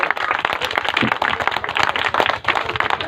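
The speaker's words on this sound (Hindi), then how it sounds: "तो इसी बात पर एक बार अपने लिए जोरदार ताली बजाओ जितने कुमार यहाँ पर इकट्ठे हुए हैं।" A large gathering of young men in a hall clapping loudly together, dense and continuous applause with no voices over it.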